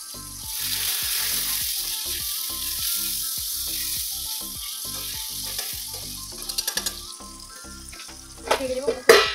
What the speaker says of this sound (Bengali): প্রথমে তো আমি আলুগুলো ভেজে নেবো